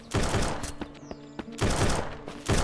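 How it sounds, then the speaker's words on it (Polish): Gunfire in the Surroundead game comes in loud, rapid bursts of repeated shots, with a pause in the middle before another burst, close and prominent. "ktoś się tutaj strzela"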